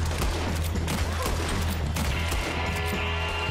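Loud gunfire in the western video game Red Dead Redemption 2, a dense stretch of overlapping shots and crashing impacts over a low rumbling background with no let-up.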